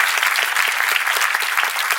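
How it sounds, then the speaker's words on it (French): Audience applause at a live comedy show, a steady dense clapping from a crowd that holds evenly for about two seconds. "on peut l'applaudir bien fort"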